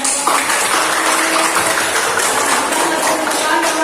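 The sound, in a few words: class applause for the group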